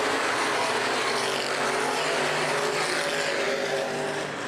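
Open-wheel modified race cars roar as a pack on the restart of a 2011 feature at Baer Field Speedway, with loud, continuous engine noise that stays close and steady throughout.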